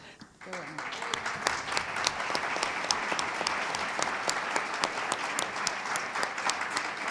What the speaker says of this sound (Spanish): Pero ya que aplauden